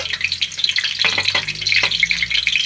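Onions frying in a pan, a dense crackling sizzle that stays steady and close throughout, with a few brief stirring clicks.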